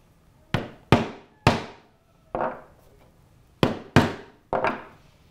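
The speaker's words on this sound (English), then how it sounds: "now I'm just gonna punch some holes right in all my rivet placement marks using a cutting board and a 3/32 drive punch and a mallet" Seven sharp, loud mallet strikes on a 3/32 drive punch pass through leather into a cutting board, spaced in an uneven rhythm with brief pauses between groups, and no voices.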